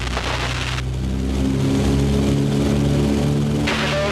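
Twin Wright R2600 radial engines on a vintage aircraft power up, a steady loud drone with rising harmonic tones that swells through the middle and holds, with no voices.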